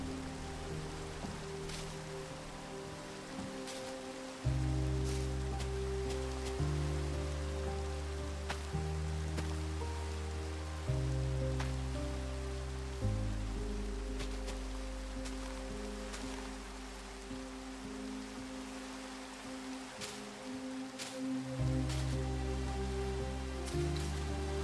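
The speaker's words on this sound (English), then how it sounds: "Leaves are really shaky in the rain." Soft, steady rain falls over a blocky game world during a building session, a faint continuous patter with scattered drips beneath low, shifting background music.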